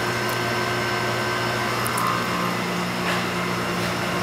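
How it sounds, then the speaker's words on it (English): A hydraulic bench pump runs at full open in a pumps-in-series lab rig, giving a loud, steady mechanical hum with constant tonal whine throughout, no speech. "the hydraulic bench pump and open it up fully"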